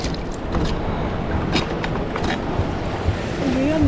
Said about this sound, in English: we got to fight the waves